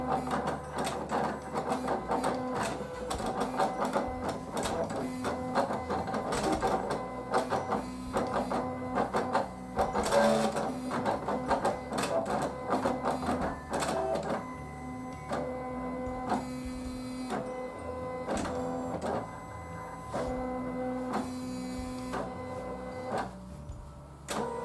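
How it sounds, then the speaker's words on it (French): A Silhouette cutting machine cuts a plastic mask, giving a steady mechanical whir with rhythmic stepping and carriage movements that run continuously for the whole stretch. The sound is close and moderately loud, with no talk. "Là on va maintenant cliquer sur Envoyer et la machine va imprimer."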